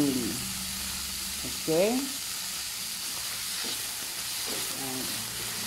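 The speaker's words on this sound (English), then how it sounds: "stir it until the cream cheese melts a little." Pork chop sauce with cream cheese and mushroom sizzles loudly in a hot pan while a spoon stirs it in short scraping passes. A voice speaks briefly near the start over the steady hiss.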